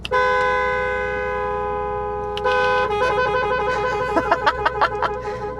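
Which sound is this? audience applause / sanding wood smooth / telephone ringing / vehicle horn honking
vehicle horn honking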